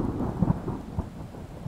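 A low roll of thunder rumbles through a rainstorm, soft and steady with a couple of deeper swells, heard on its own with no voices.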